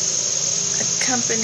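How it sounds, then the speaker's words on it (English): Cicadas in the trees drone in a steady, continuous high-pitched buzz that fills the whole clip, with a brief spoken word and distant outdoor sounds faintly underneath. "the cicadas in the trees."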